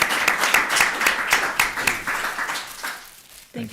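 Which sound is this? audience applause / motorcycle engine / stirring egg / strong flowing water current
audience applause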